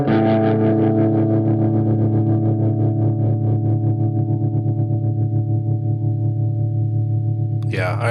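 An electric guitar plays through a pedal on its tremolo and reverb setting, sustaining a chord with a wavering, distorted, washy tone for several seconds before a brief sharp noise at the end.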